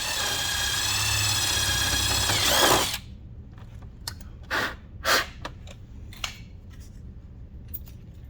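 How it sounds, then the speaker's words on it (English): A power drill whines loudly for nearly three seconds drilling holes in a fender on a Yamaha Wolverine RMAX4 1000, then stops, followed by scattered sharp metallic clicks and taps. "Drill our 2 holes here and here."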